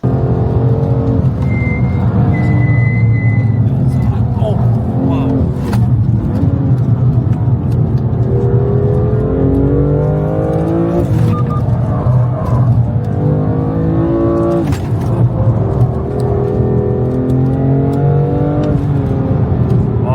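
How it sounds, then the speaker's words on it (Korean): A sports car driven hard around a fenced race circuit with its stability control switched off, engine roaring and revving loudly and continuously through gear changes, close and dominant with no talk. "CCS 오프하니까 차가 막 날아간다"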